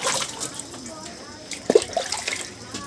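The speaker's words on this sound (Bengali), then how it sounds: "আমার গিন্নি কিন্তু এগুলো সব ধুয়ে ফেলতেছে" Water splashes and runs as the rooms of a pigeon house are washed out, with a few sharper splashes midway and someone talking over it.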